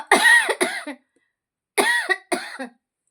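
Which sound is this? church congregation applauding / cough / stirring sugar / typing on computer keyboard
cough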